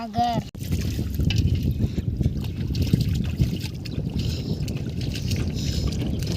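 Water sloshes and splashes steadily up close as freshly caught fish are washed by hand, with a continuous churning wash and people talking over it.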